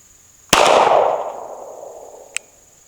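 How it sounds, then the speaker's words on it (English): Single loud pistol gunshot fired with a Cyelee Cat Pro red dot mounted, a sharp crack followed by a long echoing outdoor tail, then a faint distant pop. "we're gonna put 100 rounds through it anyway"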